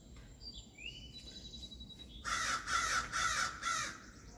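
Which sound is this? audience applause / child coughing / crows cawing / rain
crows cawing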